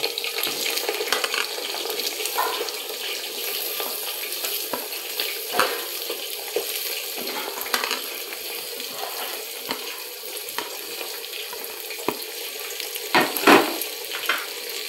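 Chopped onions frying in a pot for a handi-style mutton curry, a steady close hiss of sizzling oil with occasional soft clinks of a utensil against the pot, no voices.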